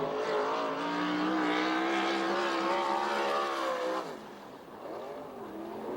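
USAC/CRA sprint cars race at Perris, California, their engines roaring loudly and steadily before the sound drops away as the cars pass and then swells again with revving.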